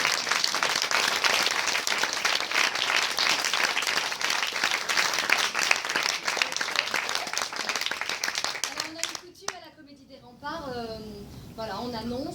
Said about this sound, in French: Donc moi j'applaudis, j'applaudis.